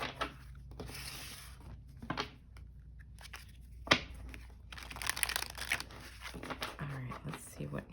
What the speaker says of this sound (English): I'm just going to go ahead to shuffle a little bit again.